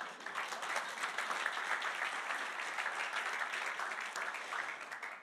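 Audience giving a round of applause, a dense steady wash of many hands clapping at moderate distance that continues evenly throughout.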